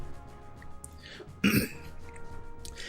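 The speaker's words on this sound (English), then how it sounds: "I'm going to clear my throat a lot" A single short throat clear sounds close and fairly loud against a quiet room, brief and alone with no talking.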